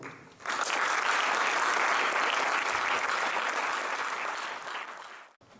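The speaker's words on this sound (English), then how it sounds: "Can we please give a warm round of applause for Uncle Kevin?" An audience at a Guru Poornima gathering in Auckland, New Zealand, breaks into warm, sustained applause that swells quickly, holds steady and then tapers off before ending abruptly.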